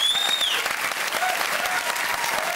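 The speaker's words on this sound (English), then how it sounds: "Ladies and gentlemen, a round of applause for Dave Henrington's Jazz Bar" Studio audience applauding on a music quiz game show, a dense and steady burst of clapping that stays loud and even throughout with no voices over it.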